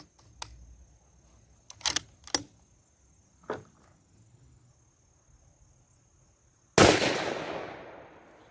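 A Mossberg Patriot Predator rifle, freshly pillar bedded, fires a single loud, close shot outdoors with a long ringing decay. Faint clicks and handling noises come before it, over a steady chirping of insects.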